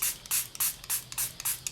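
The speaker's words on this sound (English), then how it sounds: "So I'm going to bring over a spray bottle of water" A spray bottle mists water onto a polymer clay texture stamp, giving about six quick, bright hissing squirts in a fast regular rhythm, close and loud with no speech.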